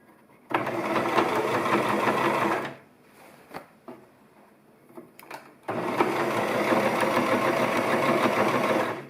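A sewing machine stitches fabric for a chair pouch, running in two long, loud, steady bursts separated by a pause filled with small clicks and handling noises.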